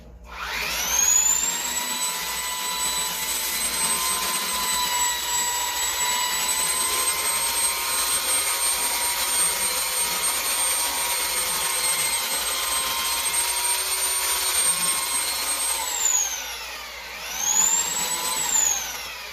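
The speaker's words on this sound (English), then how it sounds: "I use the belt sander to clean up the edges, round them a little bit." A belt sander rounds the edges of a wooden Adirondack chair, running with a loud, steady high-pitched whine for about fifteen seconds, then winding down, briefly revving again and fading.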